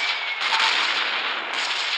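An explosion booms in the naval combat video game Gunship Battle: Second War, a loud, sustained roar of blast noise with a second surge partway through and no talking.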